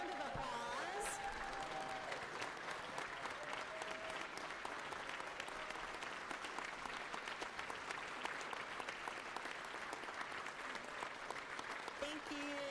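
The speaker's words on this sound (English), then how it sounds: "if we can all give them a round of applause" Members and visitors in the Georgia House legislative chamber give a sustained round of applause, an even wash of clapping that fills the room and carries on at a steady level from start to finish.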